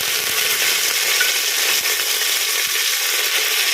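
Steady, dense sizzling of curry leaves frying in hot oil, close and continuous, with a few faint clinks.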